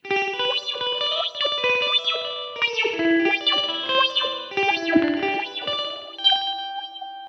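Electric guitar notes played through a Matthews Effects Surgeon delay pedal with a fast, maximum-depth wobbling modulation, giving a warbly, slightly distorted, echoing tone; no talking.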